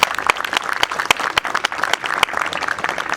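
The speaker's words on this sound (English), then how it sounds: "I would like to give us all a round of applause" An audience at a school graduation ceremony applauds steadily, with dense clapping from many hands and a few sharper nearby claps standing out from the crowd for the full stretch.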